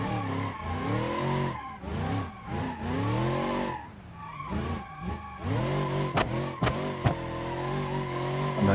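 Car drifting in BeamNG.drive with tires squealing through corners, engine note rising and falling over sustained screeching and a few sharp clicks, no voices.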